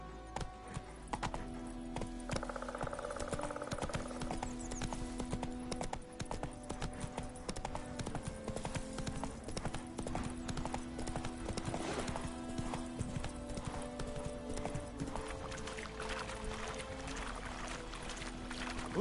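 Horse hooves clip-clop steadily in The Witcher 3 video game, a continuous trotting rhythm that stays up front over game music and ambient sound.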